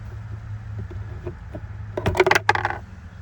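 The glove box door of a 2018 Hyundai Sonata drops open: a quick clatter of hard knocks and a rattling drop against a steady low hum, sharp and close, settling after about a second.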